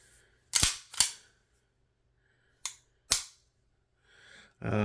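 Four sharp, loud gunshots from a Staccato P pistol, fired in two quick pairs at close range with brief quiet between them, ending on a short burst of noise.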